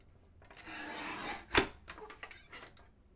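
Paper slightly trimmed for a Santa craft box, a soft sliding rasp of a trimmer blade building over a second, ending in a sharp snap, then a few light scrapes, close and quiet.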